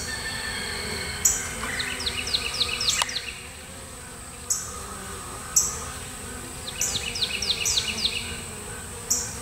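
Honeybees around a swarm trap hive, a steady close buzz of many insects with individual bees whizzing past near the opening, with brief bird calls chirping in the background.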